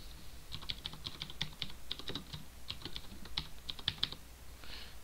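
Terminal commands typed on a computer keyboard, quick irregular bursts of close, crisp key clicks with brief pauses, fairly quiet and without speech.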